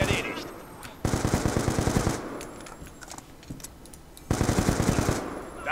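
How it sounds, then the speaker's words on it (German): Automatic gunfire from the video game Black Ops 2 comes in two loud, rapid bursts over continuous background shooting and game noise. "Da habe ich ja gerade nur durchgeschossen."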